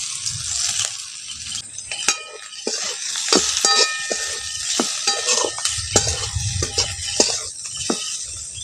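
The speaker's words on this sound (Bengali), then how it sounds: "এবার এর মধ্যে ভেজে রাখা কাঁকরোলগুলো দিয়ে দিচ্ছি" Fried teasel gourds tossed into frying spices in a pan give a steady sizzle broken by frequent sharp clinks and scrapes of a spatula against the metal, close and busy.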